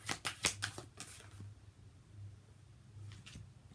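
Playing cards riffled and flicked at close range: a quick burst of crisp shuffling snaps at the start, then a quiet pause and a few softer card slides near the end.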